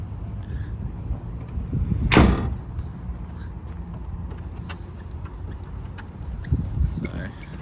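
Rear cover on a Toyota Hilux Rogue closing under button control, a short rising mechanical sweep peaking mid-clip over steady background noise, with a smaller thud-like sound near the end.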